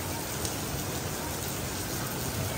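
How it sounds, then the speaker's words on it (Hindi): Heavy rain falls outside, a dense, steady hiss of drops that stays constant and fairly loud throughout, with no other sounds standing out. "अब मैं नीचे आई हूँ तो फुल तेज़ बारिश हो गई है बाहर"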